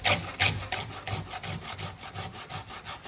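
A new flat file rasps across chainsaw rakers in quick, steady back-and-forth strokes, about a dozen in three seconds, close and clear with no talking.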